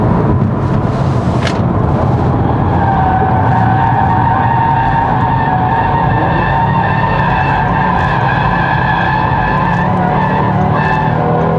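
Tires squeal continuously as a 2024 Audi RS 3 drifts on a downhill in Dynamic mode, with a loud engine roar underneath throughout.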